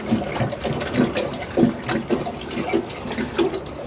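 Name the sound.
water being poured into a basin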